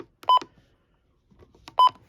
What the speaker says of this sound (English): here's the invalid button beeps